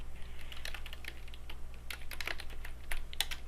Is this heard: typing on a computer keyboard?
yes